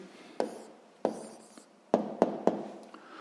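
Pen writing an answer by hand on paper: close, short scratchy strokes and taps at an irregular pace, a handful of distinct marks in a quiet room.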